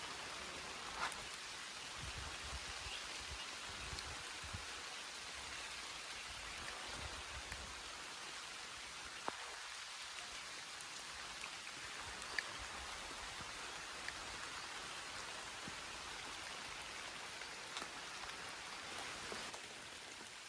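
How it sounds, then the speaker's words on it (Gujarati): Steady rain pattering on surfaces for a long stretch, with occasional louder drips and splashes standing out against the even wash of falling water. "વરસાદ ચાલુ થઈ ગયો છે"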